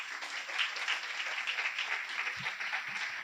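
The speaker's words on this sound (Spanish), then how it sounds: "ahora ya sí que es momento de recibir a Pepe Fajardo con un fuerte aplauso" An audience gives a steady, full round of applause welcoming a speaker to a lecture on Spanish livestock droving routes, dense clapping sustained throughout without pause.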